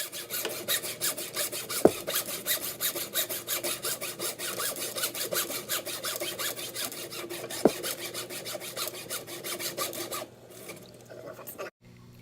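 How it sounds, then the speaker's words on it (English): A hacksaw cuts through rigid aquarium plumbing pipe in fast, regular back-and-forth strokes, close and steady, with a couple of sharp knocks before the sawing stops near the end. "We're starting to cut into the pipe, and it's rigid plumbing, so the whole tank is moving a little bit."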